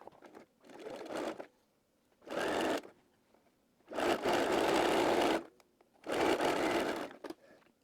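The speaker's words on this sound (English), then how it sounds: "we're going to sew this to the skirt using a 1/4 inch or a 6 millimeter" A sewing machine stitches a pocket to a skirt seam in four separate runs, each a steady close whirring hum, separated by short quiet pauses, with the last two runs longest.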